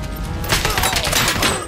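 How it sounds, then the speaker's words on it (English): Rapid gunfire aimed at the player in a Robocop video game campaign, a dense burst of overlapping shots and thuds sustained loud and close throughout. "Stop shooting me, I haven't reloaded yet, man."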